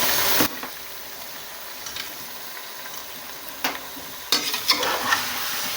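Two kilograms of meat being stirred in a pot for Kabuli pulao, with a steady low sizzle and a few sharp scrapes and clanks of the spoon against the metal. No one speaks.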